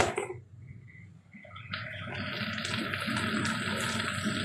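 Water being poured into a cooking pot in a home kitchen, a brief splash at first, then a steady gushing stream from a tap filling the pot, close and fairly loud.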